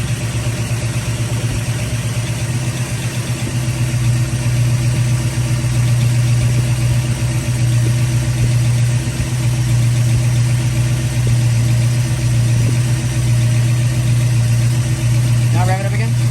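A car engine idles steadily with a noisy valve lifter condition, a loud, even low hum with constant ticking texture running throughout and close to the microphone.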